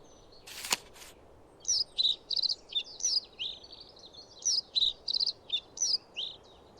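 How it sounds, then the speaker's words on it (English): Eleonora's falcon calling in the game Wingspan: a sharp thump, then a run of high, shrill chirping notes in quick bursts, clear and fairly close over a quiet background. "Eleonora's falcon."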